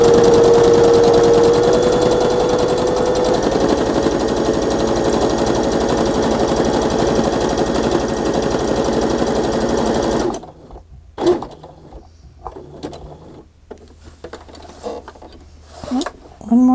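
A sewing machine runs steadily and loudly for about ten seconds, stitching a fabric journal page, then stops. Quieter handling noises and clicks follow as the fabric is adjusted.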